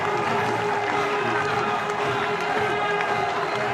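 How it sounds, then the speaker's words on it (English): A cricket crowd in a packed stadium roars and cheers continuously after a catch, a broad, dense wash of noise throughout. "Cries of easy in the crowd."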